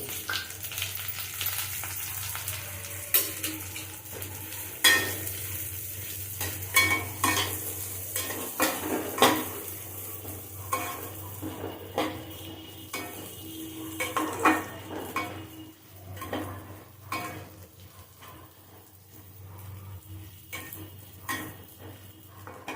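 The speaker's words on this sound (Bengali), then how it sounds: "মুগ ডালটা আমি ভেজে দেবো" Mung lentils sizzle softly in a pan while a spoon scrapes and clinks against it in irregular stirring strokes, over a low background hum.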